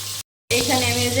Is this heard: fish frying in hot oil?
yes